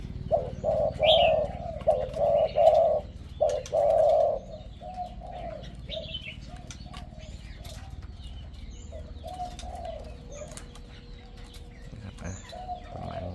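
Zebra dove cooing up close, a series of clear rolling coos repeated in the first seconds, then quieter calls with faint chirps from other birds in the background.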